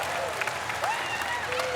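Wrestling crowd applauding at the Vancouver Convention Center, a dense, steady wash of clapping and cheering filling the hall for the full stretch, with a commentator's voice running faintly over it.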